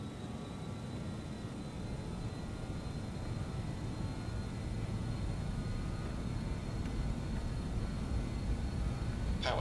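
Steady, loud roar of airliner engines at takeoff power in Microsoft Flight Simulator 2020, a continuous low rumbling drone with a faint whine, unbroken for the whole stretch with no talk.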